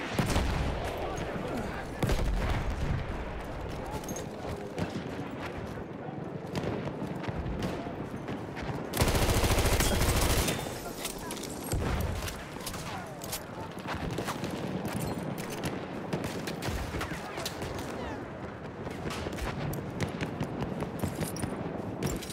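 Enemy machine gun fire in Battlefield 1, sustained rattling bursts with a dense roaring stretch of heavy firing, loud and close amid constant battle noise, with voices heard.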